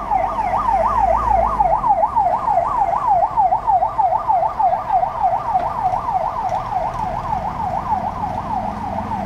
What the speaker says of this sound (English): I'll wait till this ambulance gets by.